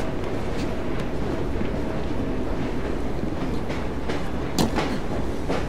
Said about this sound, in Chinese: 哇，这火车好慢